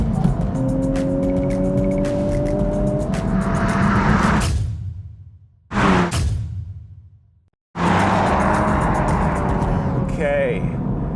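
Launch of a 2023 Honda Civic Type R with a little wheel hop: loud, close engine roar and tyre noise that cuts out abruptly twice, with an engine note rising in pitch before each break.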